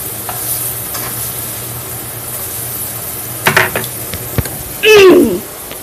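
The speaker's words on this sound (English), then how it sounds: "And then you flip your burgers again." Burgers frying in a pan with a soft continuous sizzle, broken by a few scraping and clattering spatula sounds as the patties are flipped near the end.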